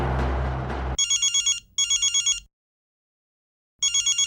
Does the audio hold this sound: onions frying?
no